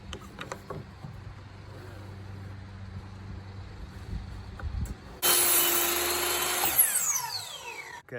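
A power saw cuts a piece of stair wainscoting trim, starting abruptly as a loud close whine with a grinding edge that runs about three seconds and winds down, after quiet shop noise and faint handling sounds.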